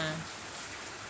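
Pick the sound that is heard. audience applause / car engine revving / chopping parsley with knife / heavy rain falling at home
heavy rain falling at home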